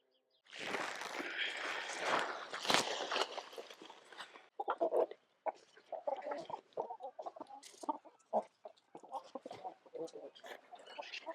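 A burst of flapping and rustling gives way to chickens clucking in short, irregular bursts, fairly close.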